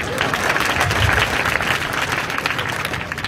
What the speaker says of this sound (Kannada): ಒಂದು ಚಪ್ಪಾಳೆ ಹೊಡಿದ್ರು ನೋಡೋಣ